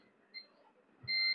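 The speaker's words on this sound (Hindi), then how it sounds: "अभी देखिए यहाँ पर कोई बीप नहीं कर रहा है और एक साइड में बीप कर रहा है" A multimeter on continuity test beeps while probing an Oppo A17 phone circuit board, giving one short faint chirp and then a longer, clear, steady electronic tone, close and otherwise quiet.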